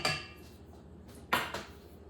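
Dry bread ingredients are stirred in a bowl, with a utensil clinking and scraping against the sides in two distinct bursts over a quiet background.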